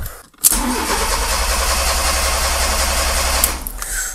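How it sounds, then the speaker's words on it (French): A Fiat Seicento SPI turbo running on E85 ethanol with its original injector cranks steadily and loudly for about three seconds without catching, the starter's whirring drone continuous and close before cutting off. "l'injecteur d'origine, visiblement, il a pas envie de démarrer sur l'éthanol"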